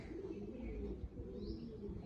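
Pigeons coo softly and steadily in a low, throaty murmur, with a faint chirp from another bird and no talking.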